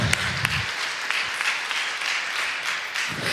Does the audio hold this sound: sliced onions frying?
no